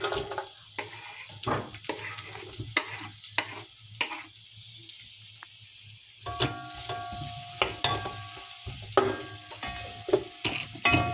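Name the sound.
chopped onion frying in pot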